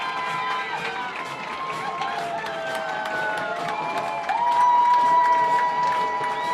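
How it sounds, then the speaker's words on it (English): Crowd noise at a high school football game between Plymouth Whitemarsh and Upper Dublin, a steady roar of cheering from the stands that swells louder near the end, with a commentator's voice running over it. "Well, the crowd's really getting into it here."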